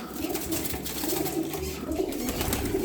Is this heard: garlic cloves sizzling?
no